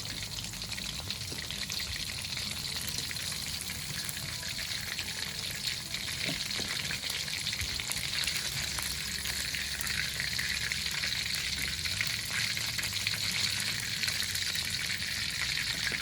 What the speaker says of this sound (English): I deep fried it 3 times